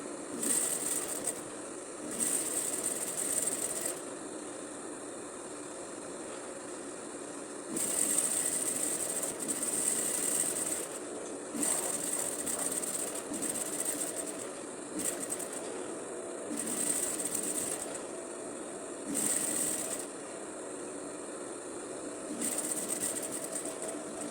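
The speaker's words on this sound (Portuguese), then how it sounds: "Fiz um retrocesso arrematando a costura e costurei toda a margem do cos" A sewing machine stitches the waistband of tailored shorts in repeated bursts of steady whirring, several runs separated by short pauses, close and clear with no talk.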